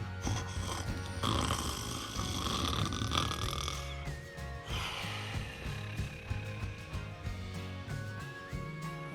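Long, drawn-out snoring grunts, like a sleeping pig, rumble steadily over light background music. Nobody speaks.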